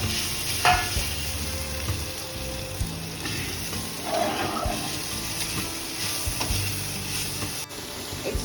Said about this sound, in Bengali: সয়াবিনটাই তেলের মধ্যে একটু ফ্রাই করে নেব।